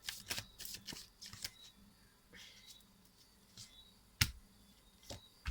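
Tarot cards being shuffled by hand in quick, soft riffling bursts with flicks and taps, close and fairly quiet.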